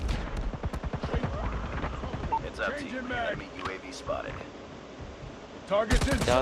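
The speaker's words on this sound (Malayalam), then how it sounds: "ഭീമനെ തന്നെ വെടിവെച്ചാണ്" Bursts of video game gunfire open and close the stretch, with a person talking through the middle between volleys.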